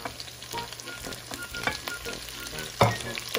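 Garlic and medium tomatoes stir-fry in a pan for a white squash dish, giving a close crackling sizzle with irregular scrapes and one louder clatter near the end.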